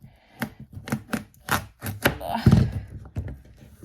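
A knife chops through a spaghetti squash, giving a series of close, solid thunks in an uneven rhythm, with one heavier crunching cut partway through.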